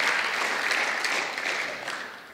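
A church congregation breaks into applause during a sermon, a dense, steady clatter of many hands that fades slightly toward the end.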